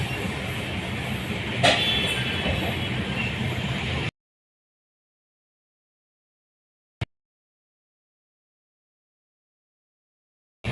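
The 13126 Sairang to Kolkata Express runs with a steady rolling rumble and hiss for about four seconds, one sharp knock in the middle, then the sound cuts to silence apart from a lone click.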